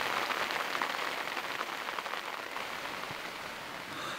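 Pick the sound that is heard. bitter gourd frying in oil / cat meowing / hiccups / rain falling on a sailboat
rain falling on a sailboat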